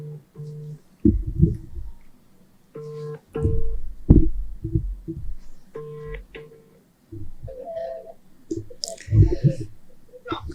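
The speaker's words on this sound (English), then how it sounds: "It's ringing now." A phone call's ringing tone on a line to Nigeria, repeated tone bursts in a steady on-off cadence, fairly clear and close as if through a handset, with some line noise and a brief voice-like sound near the end.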